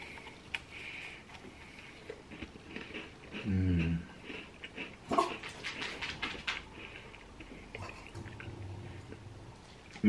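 A dog gives soft, intermittent whimpers and whines close by, with brief louder moments and quiet stretches in a domestic room.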